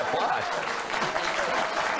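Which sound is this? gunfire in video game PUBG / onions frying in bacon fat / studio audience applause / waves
studio audience applause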